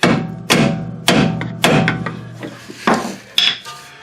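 A hammer strikes a rear toe link on a 2011 Ford Edge, seven sharp metallic blows at a steady, roughly half-second rhythm, close and loud with ringing decay between hits.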